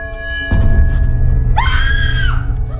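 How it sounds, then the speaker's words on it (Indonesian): A woman in a horror film scene screams in fear while bathing, a long, loud, rising-then-falling shriek that starts midway over a low rumbling background drone. "Ia pun menjerit ketakutan"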